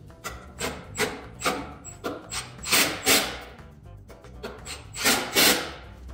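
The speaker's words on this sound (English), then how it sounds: "I'm going to go over here on the back side and hit that screw" A screw is driven at an angle into a wooden framing stud, making a run of rhythmic, raspy grinding bursts in quick succession, close by, with no speech.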